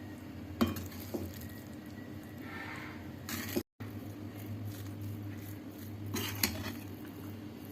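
A spoon stirs and spreads carrot mango rice around a pan, giving soft scraping and a few light metallic clinks against the cookware, fairly quiet and close with no speech.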